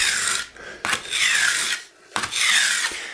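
A chisel ground freehand for sharpening, steel rasping across an abrasive in long back-and-forth strokes, three or four loud, close scraping passes with brief pauses between them.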